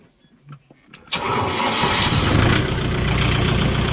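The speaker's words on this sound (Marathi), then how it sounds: "ट्रॅक्टर चालू केलेला आहे" A Kubota MU5502 tractor hitched to a cultivator cranks and catches after about a second of quiet clicks, then settles into a loud, steady diesel idle close by.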